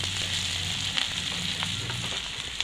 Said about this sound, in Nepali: अब चाहिँ प्याज यतिको भइसकेको छ अब अलिकति फ्राई गरेर मासु हाल्छु म